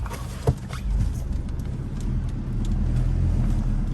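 A car engine rumbles low and steady nearby as the car is driven and shifted into reverse, with a single soft thump early on and no talk.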